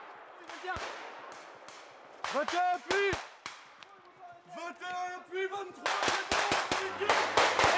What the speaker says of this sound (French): Les soldats tirent à blanc.